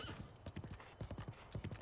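Horse hooves clip-clop at a steady walking rhythm in the video game Breath of the Wild, with clusters of close, moderately loud thuds repeating over a faint background bed.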